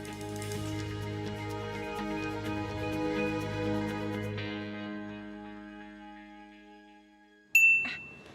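A single bright text-message notification ding rings out clearly near the end, after soft background music fades away.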